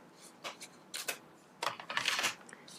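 Cutting through paper packaging on a watercolor set, a few short, close, crisp rustling snips and paper crinkles in quick irregular bursts, fairly quiet.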